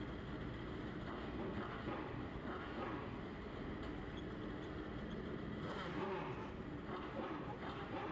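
Drag bikes roll into the lanes at the 44th Fuel Tech World Finals, a steady broadband engine and track rumble holding at an even level throughout with no distinct revs.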